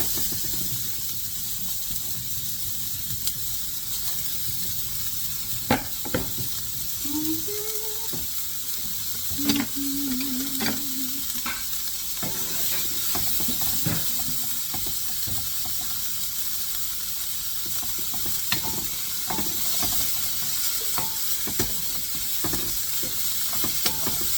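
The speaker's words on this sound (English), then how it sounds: "put the onion in, and we're going to saute it." Onion sautéing in about a teaspoon of rendered beef fat in a pan, giving a steady, even sizzle and hiss throughout with a few faint clinks of utensils and no talking.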